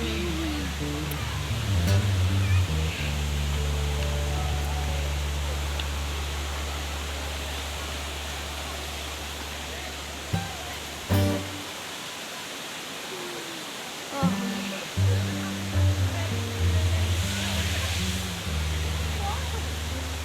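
Sitakunda waterfall in Similipal National Park, Mayurbhanj district, Odisha, roars as a steady, broadband rush of falling water that fills the whole scene from start to finish, with a low hum beneath and a few brief knocks near the middle.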